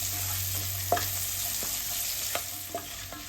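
Asafoetida, garlic, ginger and green chilli fry in oil, giving a steady soft sizzle with a few sharp taps and scrapes of a stirring spoon, close and alone.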